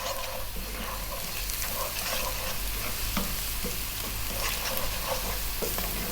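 Chili, coriander, garam masala and turmeric powders being stirred constantly in a hot pan, giving a steady, loud, dense frying sizzle with scraping stir sounds throughout, no voices.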